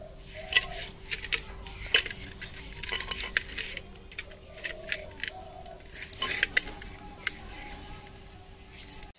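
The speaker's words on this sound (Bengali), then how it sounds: "এই তেলটা দিয়ে হাঁড়িটাকে মেখে নেব" Clinks and scrapes of oil being rubbed onto a clay cooking pot, a string of sharp irregular taps and scrapes under a faint steady hum, with some talk.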